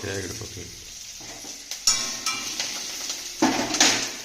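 Curry leaves go into hot oil in a pan while cooking vegetable akki roti, sizzling with sharp metallic clatters of a utensil stirring against the pot.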